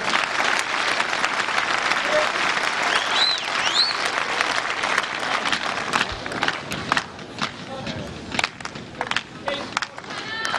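A tennis crowd at a 2006 Fed Cup quarterfinal between the USA and Germany applauds in a dense, sustained roar that breaks into rhythmic, spaced clapping toward the end, with chants and a commentator talking over it.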